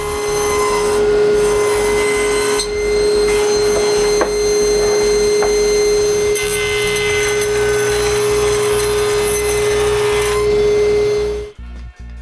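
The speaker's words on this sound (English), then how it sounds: "I clamp a plywood strip 8 degrees from the blade and cut a cove on both" Table saw cutting a cove across wood panels, with a plywood strip clamped at an angle to the blade: a loud, sustained whine with a steady tone that runs for several seconds before spinning down at the end.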